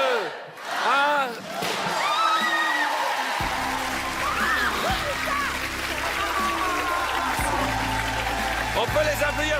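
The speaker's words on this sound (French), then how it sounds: "On peut les applaudir très très fort." A studio audience at a French TV game show applauds loudly and steadily, with cheering and voices mixed into the sustained wash of clapping.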